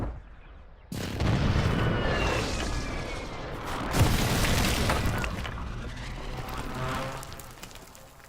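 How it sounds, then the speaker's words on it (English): Explosions from an airstrike in Call of Duty: Modern Warfare 3 begin abruptly, then roll on as dense, loud, sustained booms and rumbling blasts, with a sharper burst partway through and continuous crackling fire. "Hostile airstrike near your location."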